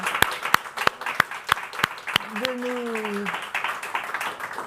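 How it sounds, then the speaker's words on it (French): An audience applauds at the close of a debate, scattered sharp claps thickening into steady clapping, with a voice briefly rising above the crowd partway through. "Je crois qu'on peut vous applaudir et vous remercier 1000 fois"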